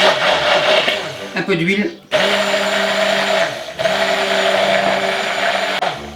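Electric immersion blender whirring loudly while pre-mixing mustard and oil into a sauce, a steady motor drone with a brief stop and restart partway through, someone speaking briefly over it.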